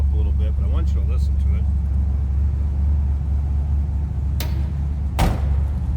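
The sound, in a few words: 1963 Chevrolet Impala SS 409 engine with dual 4-barrel warming up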